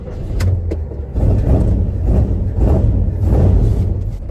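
A 1980 Jeep J10 pickup drives along with its engine running steadily, a loud low rumble that swells and eases as it moves, with no voices over it.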